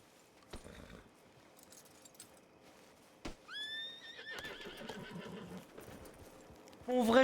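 Horse in Red Dead Redemption II lets out a loud, wavering neigh, followed by hoof clops and movement, with scattered sharp game sounds before it and a voice speaking briefly.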